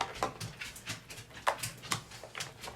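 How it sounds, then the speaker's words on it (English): A dog comes up the stairs indoors, making soft scattered thumps and light paw taps at irregular intervals, fairly faint and close, with no talking. "that's my dog deciding to come upstairs"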